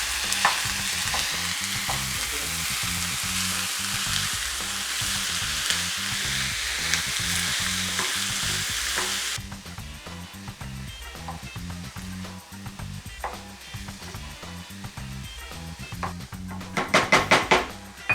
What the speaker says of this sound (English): Now we're gonna brown our meat.